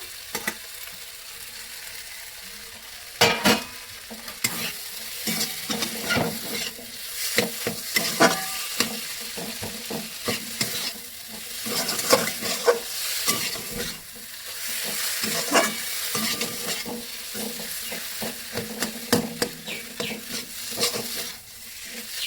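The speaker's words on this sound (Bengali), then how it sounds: "ভালো করে মশলার সাথে মিলিয়ে নেবো এর ভেতরে। দেবো ডিম ভাজা।" Fried egg being stirred into masala in a pan for a pointed gourd and egg korma: continuous close sizzling frying with irregular scraping, tapping stirs throughout, no voices.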